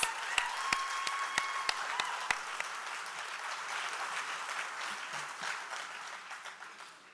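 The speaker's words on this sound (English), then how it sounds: "one more round of applause for Rita Pappas" Audience applause at an awards and athletic hall of fame presentation for Rita Pappas, steady clapping from a crowd with a few sharp close claps near the start, moderately quiet and gradually fading.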